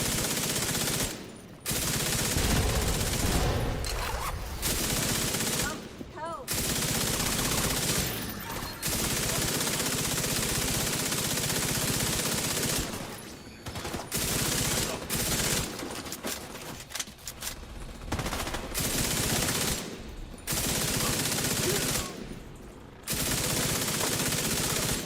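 Submachine gun fire in a video game, long loud bursts of rapid automatic shots broken by short pauses, ongoing for about twenty-five seconds.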